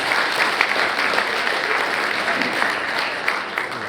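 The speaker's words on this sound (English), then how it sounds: "Let's give a big round of applause to our winners and nominees." A large audience at a Filipino-Canadian awards gala applauds the winners and nominees, dense, lively clapping sustained at close range with slight swells and no speech over it.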